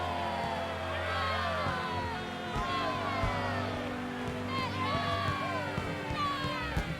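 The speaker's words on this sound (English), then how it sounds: "Sounds like a crowd of like 5 people." Small crowd cheering in the game Xenoblade Chronicles, a thin, steady murmur of a few voices with scattered calls rising and falling over a low background hum.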